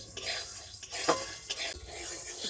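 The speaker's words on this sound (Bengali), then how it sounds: "সাবুদানাটাকে একটু হালকা করে আমি ভেজে নেব" Sago pearls fried lightly over low heat rattle and scrape in a pan as they are stirred, a close, uneven patter of utensil knocks with little sizzle beneath.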